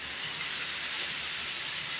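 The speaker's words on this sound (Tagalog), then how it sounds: "hindi na talaga ambon, ulan na to" Heavy rain pours down in a dense, even hiss on surfaces, steady and close with no pauses or voices.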